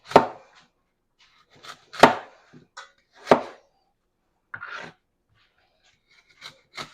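Knife chopping apple pieces on a cutting board, a handful of sharp, distinct chops spaced irregularly with quiet gaps between them.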